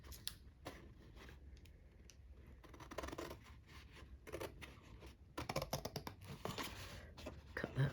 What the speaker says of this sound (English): Using my big scissors today.